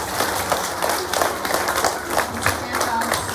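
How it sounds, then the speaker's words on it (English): School assembly audience applauding for students, a dense steady patter of many hands at moderate distance, mixed with murmured voices throughout. "Give these guys a round of applause"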